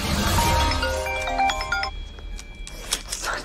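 A telephone rings late at night with an incoming call, bright electronic ringtone tones in a short melodic burst followed by quieter repeated chirps in a still room.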